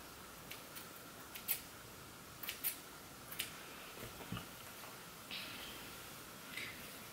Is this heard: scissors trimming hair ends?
yes